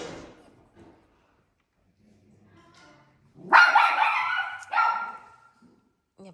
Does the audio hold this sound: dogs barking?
yes